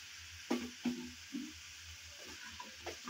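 Turnip pieces going into hot oil in a pan, giving a steady faint sizzle broken by several soft clattering drops and stirring knocks, no voices.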